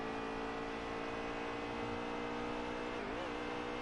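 The number 9 Chase Elliott stock car's engine in a NASCAR racing video game at Pocono holds a steady, faint droning whine at high revs, with a brief dip and rise in pitch near the end.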